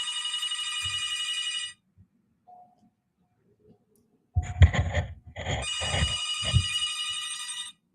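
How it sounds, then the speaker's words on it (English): An old-style telephone bell rings in two bursts separated by a pause, with a few faint knocks and thumps in between. "Sorry for the phone ringing."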